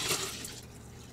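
Liquid hydroponic nutrient solution poured from a gallon container into a small Kratky lettuce setup, a brief close splashing and trickling pour that carries on steadily for about a second.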